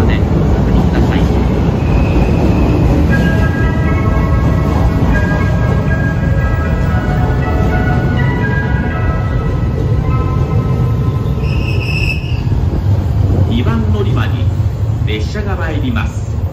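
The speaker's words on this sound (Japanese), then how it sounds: "2番乗り場に列車が参ります。" A JR 381 series Yakumo limited express in old national-railway livery rolls into Izumoshi Station, a steady loud rumble of cars with faint wheel squeal, while a platform announcement plays over it.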